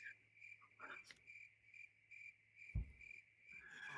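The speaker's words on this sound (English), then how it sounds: "that's crickets" Crickets chirp in a steady high-pitched trill that runs continuously, faint and distant, with a brief low thump and soft rustling partway through.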